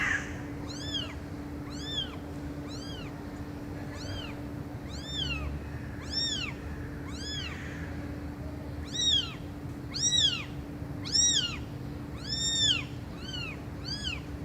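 Small kittens mew repeatedly in high, thin cries, irregular and overlapping, fairly close over a faint steady hum.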